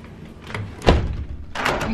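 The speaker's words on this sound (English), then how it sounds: "It keeps making their door slam shut every day." A bedroom door in a home slams shut with one sharp, loud thud near the middle, followed by a rustling thump and some quieter room noise.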